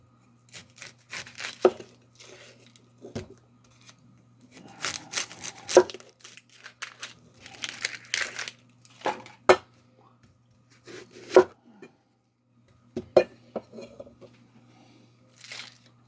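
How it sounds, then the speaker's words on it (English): An onion chopped with a knife on a board, irregular sharp close taps and crunches in bursts separated by quiet pauses, with faint rustling between. "Now, everybody cuts onions different."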